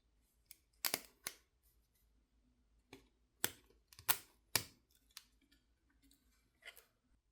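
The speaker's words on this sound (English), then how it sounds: "Now I'll be using the plastic pry pick to disconnect some cables." A plastic pry pick pops cables loose inside a Samsung Galaxy Z Flip6 during a battery replacement, giving a handful of sharp, quiet clicks and snaps spaced irregularly in an otherwise silent room.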